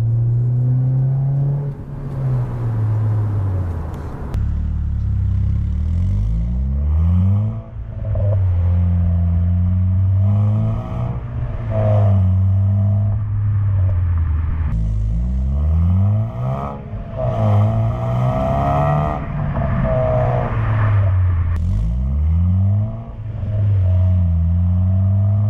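A modified Honda Civic Si engine revs repeatedly, climbing in pitch into VTEC with a sharper, harder-edged howl before dropping back, loud and close, over a steady rumbling idle between pulls.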